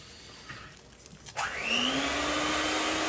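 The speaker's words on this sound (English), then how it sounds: "Y'all know she likes her turbo mixer." A loud turbo electric mixer whirs to life in a home kitchen while a pumpkin roll is made, rising after a few soft clicks into a steady, close, high-pitched motor whine that keeps droning.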